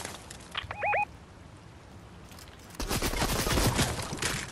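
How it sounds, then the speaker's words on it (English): Gunfire from an enemy team in Fortnite: a brief early burst of shots, then a denser, louder stretch of rapid automatic fire crackling continuously through the second half, close and intense. "Ooh, someone's shooting me."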